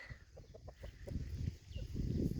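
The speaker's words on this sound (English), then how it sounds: "Chicks! Here they come!" Backyard chickens cluck and peep close by as the flock hurries over, a busy, overlapping chatter of short calls with low rustling and footsteps underneath.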